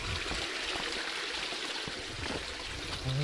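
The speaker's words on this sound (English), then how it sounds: "it was just lovely, pleasant stream burbling away" A small creek burbles and trickles steadily beside a hilly trail between Makara Hill road and a bike park, a continuous close watery rush with no talk.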